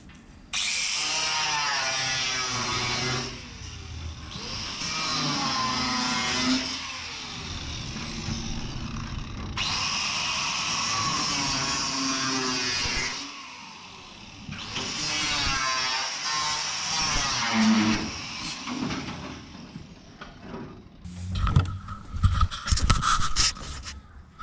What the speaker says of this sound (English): next step's grab the grinder and cut that front end off